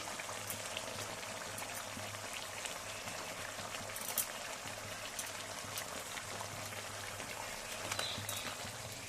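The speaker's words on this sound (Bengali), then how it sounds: "এবার একটু এঁচোড়টাকে কষিয়ে নেব, এই তুলে দিচ্ছি।" Young jackfruit, already pressure-cooked soft, sautéing in a pan in a home kitchen, a faint steady sizzle with scattered crackles and pops running evenly throughout.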